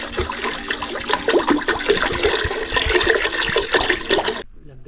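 Water pours steadily into a pot for soup at an outdoor catch-and-cook setup, a loud, broad splashing rush lasting about four seconds and cutting off sharply near the end.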